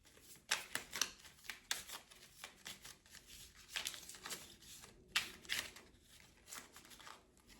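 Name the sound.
shuffling tarot cards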